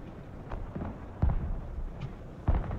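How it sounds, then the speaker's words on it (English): Artillery strikes in the Broken Arrow video game: scattered distant booms and crackling blasts, two heavier impacts landing about a second apart, over a low battlefield rumble. "I'm just dropping artillery anyway."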